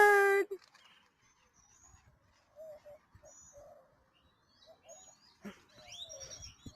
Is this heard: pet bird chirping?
yes